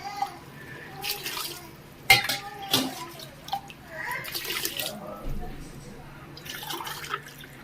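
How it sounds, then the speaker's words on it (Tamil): Water is poured glass by glass into a cooking pot for prawn biryani, about nine glasses. Each pour comes as a short splashing gush, separated by pauses and light clinks of metal vessels. "ஒரு 9 கிளாஸ் தண்ணி ஊற்றினா போதும்"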